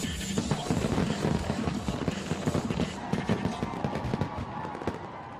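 Dense, rolling bursts of fireworks crackle and bang in quick succession over Montreal, loud and continuous like a finale barrage with sharp pops layered on a roaring wash.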